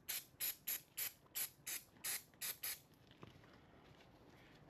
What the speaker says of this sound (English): Spray your brake fluid in there.